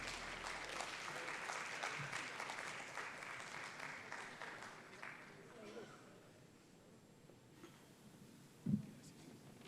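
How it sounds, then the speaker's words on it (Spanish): Applause from a conference audience for the closing panel on influencers and journalists, a faint, dense wash of clapping that gradually fades out, followed by quiet room tone and a single thump near the end. "Les damos un fuerte aplauso al último panel de esta jornada."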